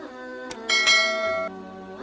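A bright chiming notification bell rings out, layered tones with a short clang-like strike, sustaining and then trailing off into a lower lingering ring; a clean sound effect with no voices.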